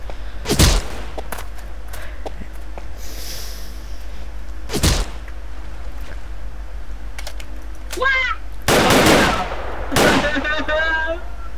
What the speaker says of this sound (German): Ich wurde beschossen